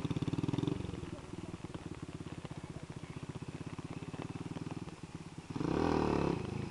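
A motorcycle engine, a Yamaha RD, chugs at a low idle with a rapid pulsing rhythm, then revs up louder near the end.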